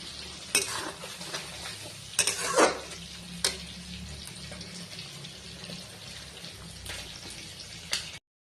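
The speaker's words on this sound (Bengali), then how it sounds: "আমার মাছ ভাজা হয়ে গেছে" Fish fry in oil in a pan with a soft continuous sizzle, broken by several sharp scrapes and clatters of a utensil against the pan; no one speaks.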